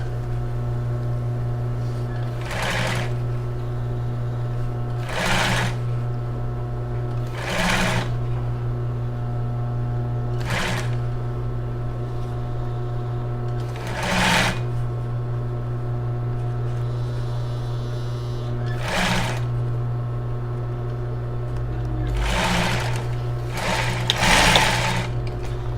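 A sewing machine backstitches while assembling a bra with elastic lace trim, running under a steady motor hum in a series of short bursts of stitching separated by brief pauses.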